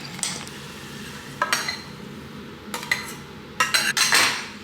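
Basil, onion and butter poured into a pot of soup, several bursts of clinking and scraping against the pot with a faint sizzle beneath, close and without talk.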